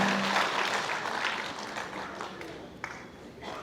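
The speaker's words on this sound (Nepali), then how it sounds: "यति लामो ताली पाउनु रहेछ," A crowd keeps up long applause after a speech by the Nepali prime minister. Dense clapping is strong at first, then slowly thins, with a sharp clap standing out near the end.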